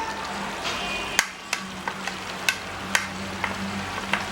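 Tomatoes drop into a frying pan of cooking mutton and sizzle steadily, with a handful of sharp stirring clicks and scrapes against the pan at irregular intervals.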